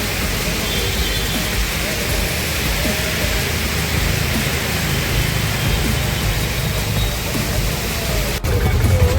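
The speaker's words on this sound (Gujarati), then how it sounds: "આટલો વરસાદ છે અહીંયા, જોઈ શકો છો એકદમ ફૂલ વરસાદ થઈ ગયો છે" Heavy monsoon rain pours down in Ahmedabad as a dense, loud, continuous roar, with deep rumbling that may be thunder and faint voices beneath.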